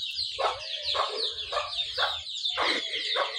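Chickens cluck repeatedly and close by in a Bengali village yard, in uneven bursts of sharp, rising calls that run continuously with no talking.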